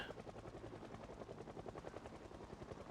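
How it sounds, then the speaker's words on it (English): A helicopter in a video game thrums with a steady rapid rotor chop, faint and continuous throughout, with no talk. "the helicopter's already here"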